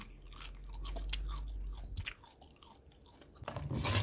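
Candied dried pollock skin, made without deep frying, is chewed up close in a quiet room, a steady run of soft crunches and wet bites with no talk.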